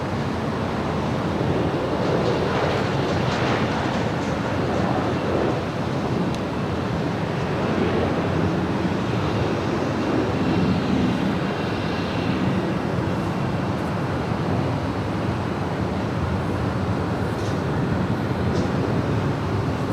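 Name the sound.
Delta Airlines Boeing 737-900ER jet passing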